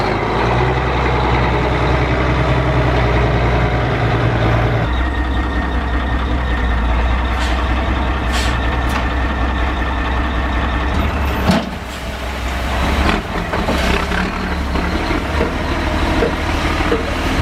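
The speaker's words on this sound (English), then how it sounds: "That was a beautiful job by our gravel truck driver." A gravel truck delivering a load of gravel at a pole barn build site: a loud continuous engine rumble with rattling and scraping, a shift midway and sharper clanks near the end.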